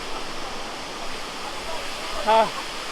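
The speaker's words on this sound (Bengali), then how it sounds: "এই ছিল সেই সুন্দর ঝর্ণাটা যেটা আমরা দেখার জন্য এত উপর থেকে নিচে আসলাম" Waterfall near Nagarkot in the hills, a steady soft rush of falling water filling the whole clip, with a brief tonal call or voice-like sound near the end.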